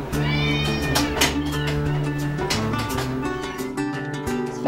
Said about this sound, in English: Oh, hi, Mama Kitty